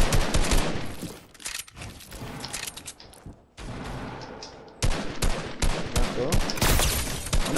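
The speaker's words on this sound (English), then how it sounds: "I'm getting shot at." Dense gunfire in the video game Fortnite, with rapid overlapping bursts and automatic fire through most of the stretch, a brief lull near the middle, then heavy shooting again.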